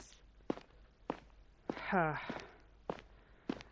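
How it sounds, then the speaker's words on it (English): Footsteps on grey city pavement, slow evenly spaced thuds close by, with a brief sighing voice in the middle. "My footsteps fall against the dull grey pavement with a series of dull grey thuds"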